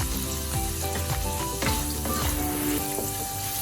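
Shrimp cook in a pan with a loud, steady sizzle and frying crackle, broken by occasional scraping stirs and no voices.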